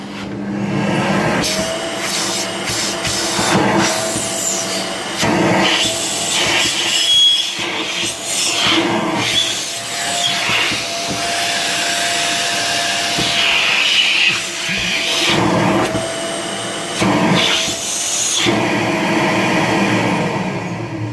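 A Fakir Heroic 2400W vacuum cleaner runs after a home teardown and maintenance. Its motor gives a loud, steady roar that wavers and surges as the nozzle rubs and shifts, with no talk over it.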